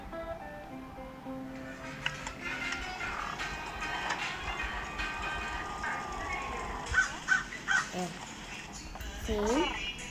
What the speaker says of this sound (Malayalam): സെയിം കാക്ക തന്നെ.